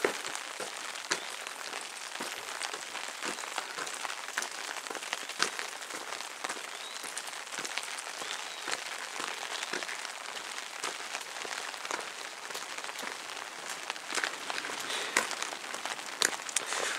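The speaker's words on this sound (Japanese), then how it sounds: "はい、雨でございます。" Steady rain falls on a walk near an ancient burial mound in Takatori, a continuous fine patter with scattered sharper drops hitting a surface nearby, no talking.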